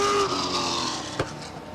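Race cars roar down the front straightaway at Star Speedway in 1994, a steady engine drone heard from a distance, fading slightly with a brief sharp bump near the end.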